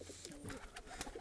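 Soft, throaty cooing from Tula pigeons, a breed kept by a hobbyist, a short low rolling coo heard close but quiet amid light rustling and background noise.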